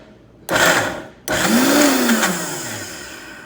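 A food processor on low pulses hummus ingredients of tahini, cumin, garlic and salt in two bursts: a short whir followed by a longer one that winds down slowly, loud and close with no voices.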